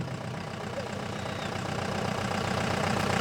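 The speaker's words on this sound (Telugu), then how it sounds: "ఈ కార్యక్రమంలో తొలి అంకంగా అలంకరించబడిన వాహనం బయలుదేరింది." A decorated vehicle's engine idles and pulls away at a district Republic Day parade, a steady mid-low rumble that slowly grows louder over a few seconds, with no voices.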